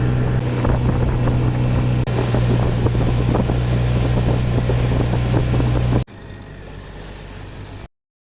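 A motorboat engine drones steadily during a ride in Costa Rica with wind buffeting the microphone, then the sound drops abruptly to a quieter rumble before cutting out.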